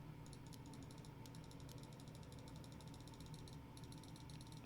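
Faint, rapid computer mouse clicking in steady bursts with short pauses, heard over a constant low background hum.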